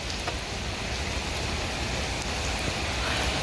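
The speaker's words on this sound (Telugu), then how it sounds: "ఈరోజు అయితే వర్షం బాగానే ఉన్నది మార్నింగ్ నుంచి పడుతుంది" Rain falls steadily and evenly in Kuwait, a dense continuous hiss with faint scattered drops and no let-up or voices.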